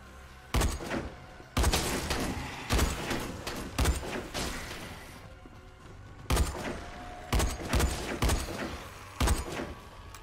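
Rifle fire in the shooter game Dead Frontier 2 comes in loud, close, rapid bursts of several shots each, repeated in clusters with short pauses between them.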